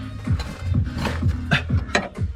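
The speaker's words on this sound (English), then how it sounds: "I'm just gonna keep cranking" A hand crank turns a ratcheting mechanism while a V is readied for transport, giving repeated clicking pawl strokes at a steady rhythm, each with a rubbing, creaking tone, close and fairly loud.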